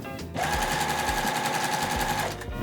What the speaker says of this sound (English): sew it right down the center of your line